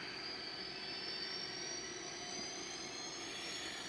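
Model E8 locomotive with a DCC sound decoder running up to speed, a steady droning engine roar with a rising whine layered on top, continuous and close.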